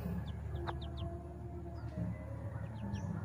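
Backyard hen with her second brood of chicks, clucking softly among high chirps and peeps from the young birds, scattered short calls over steady outdoor background noise.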